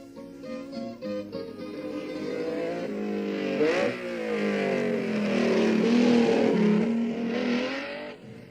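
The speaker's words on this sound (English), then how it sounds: "Soon the mountain roads reverberate to the sounds of unofficial practice" Race cars on mountain roads during unofficial practice for the 1965 Targa Florio, engines revving and rising in pitch as cars accelerate and pass, loud and continuous with no talk.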